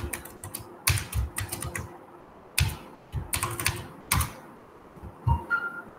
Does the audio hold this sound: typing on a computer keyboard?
yes